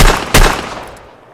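Two pistol shots from an Escape from Tarkov handgun, a loud crack at the start and another about a third of a second later, each ringing out in a fading reverberant tail, with no talking.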